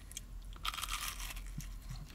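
Close, crisp crunching as someone bites and chews a breaded onion ring, a quiet burst of crackly bites over a low background hum.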